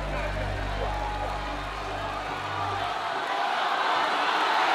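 A crowd at a strongman team competition between countries cheers on a lifter, a broad, steady roar of voices with occasional shouts, loud and continuous, mixed with a low engine-like drone that fades midway.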